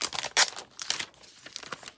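Plastic wrapping is crinkled and torn off a new keyboard, close and loud, in uneven rustling bursts with one sharp crackle near the start.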